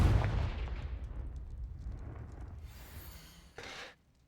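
A Confringo fire spell blast in the video game Hogwarts Legacy, a loud burst that decays over a few seconds, followed near the end by a short sharp whooshing hit.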